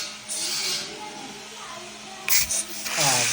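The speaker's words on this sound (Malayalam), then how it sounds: "നമ്മുടെ സോഡ അങ്ങോട്ട് ശബ്ദം കേൾക്കട്ടെ" A soda bottle cracked open with short bursts of hissing fizz, sharp and close, while people talk nearby.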